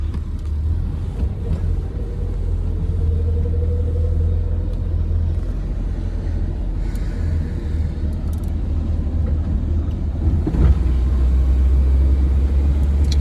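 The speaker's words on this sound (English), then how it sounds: "It's running. It's running great." A cheap Honda Integra pulled from a junkyard runs with a steady, deep engine rumble that holds even and continuous throughout, close and fairly loud, with a faint whining tone drifting briefly above it and no voices.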